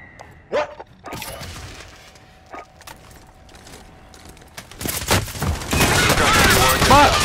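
Gunfire in Call of Duty Warzone, with a few separate sharp shots early on, then a dense, loud stretch of shooting and battle noise over the last few seconds.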